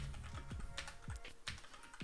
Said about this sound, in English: I was typing real fast, spelled everything real wrong.